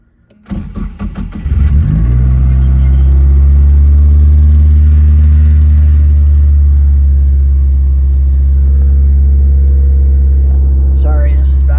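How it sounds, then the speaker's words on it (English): A Volvo 240 turbo cranks and catches inside a garage, then settles into a loud, steady idle that drones on unchanged for around ten seconds, with a few rattles at the start and a faint clatter near the end. "I'll give it a few revs once I get it in the garage."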